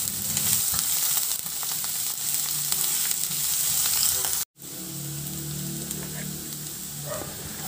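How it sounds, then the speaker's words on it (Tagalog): Garlic sautéing in hot oil in a wok, a steady close sizzle with light stirring, briefly cut off by a short dropout midway before the frying hiss resumes. "Igisa ko na rin yung bawang."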